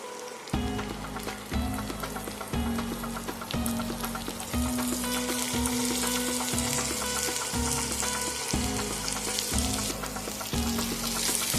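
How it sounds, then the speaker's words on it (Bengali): Quail meat with half a lemon's juice being stirred in a pan for a bhuna, a steady loud sizzle with a regular rhythm of utensil strokes scraping through the pieces. "ভালো করে একটু নেড়ে চেড়ে নিচ্ছি।"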